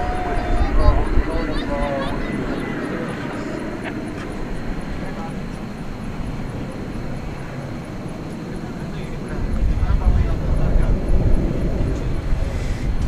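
An airliner departs from DFW Airport at night, its steady broad jet roar filling the scene and swelling louder toward the end, with a voice talking over it throughout.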